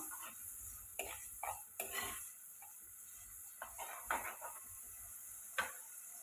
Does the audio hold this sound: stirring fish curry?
yes